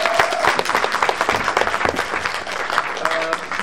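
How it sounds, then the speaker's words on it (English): A quick round of applause breaks out from an audience at a talk on free expression, loud, dense clapping with scattered voices mixed in, lasting a few seconds. "Quick round of applause before we get to questions."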